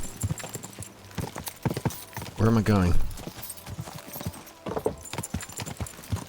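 Horse hooves clip-clop in a rapid galloping rhythm throughout a ride in the video game Kingdom Come: Deliverance 2, with a brief horse snort or whinny partway through and someone talking over the hoofbeats.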